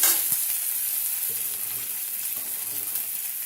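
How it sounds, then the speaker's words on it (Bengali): Green chillies, onion and black cumin frying in hot oil, a steady close sizzle with a few soft stirring knocks and no voices. "লঙ্কা দিয়ে একটু পেঁয়াজ আর কালো জিরের সাথে ভেজে নিলাম"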